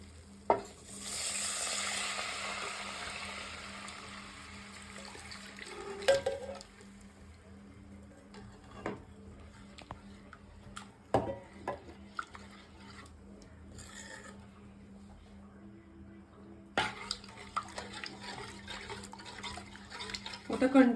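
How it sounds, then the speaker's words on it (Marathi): Flour and milk being stirred continuously in a pan for white sauce, giving a soft scraping, sizzling rasp that rises early and then settles into quieter intermittent stirring with occasional clinks of the pan. "आता ह्यामध्ये आपल्याला दूध टाकायचंय आणि कंटिन्युअस हलवायचंय."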